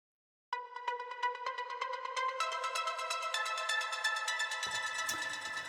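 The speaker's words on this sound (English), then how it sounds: "The second pluck is also coming from Diva, and it's just playing an octave higher" Bright synth plucks from the Diva plugin play an octave higher in a quick, steady stream of notes, clean and upfront, building in density as the phrase goes on.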